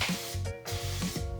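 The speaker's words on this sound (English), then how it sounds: "You'll need to spray where the stem meets the roller." Lubricant sprayed from an aerosol can onto a garage door roller where the stem meets the roller, heard as several short, close hissing bursts in quick succession.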